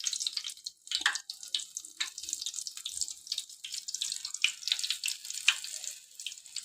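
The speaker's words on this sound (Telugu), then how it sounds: "మంచిగా ఫ్రై అవుతున్నాయి బజ్జీలు ఆయిల్లో" Mirchi bhajji, battered chillies dipped and dropped into hot oil, sizzle and crackle steadily in a pan, a continuous hissing fry with small bursts of bubbling throughout.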